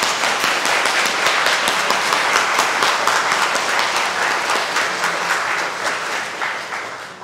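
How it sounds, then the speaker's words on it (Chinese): A congregation at a Taiwanese-language Sunday church service applauds the Taipei sacred music choir. Dense, steady clapping fills the room throughout and tapers only slightly at the end. "咱即摆用掌声甲因鼓励者吼"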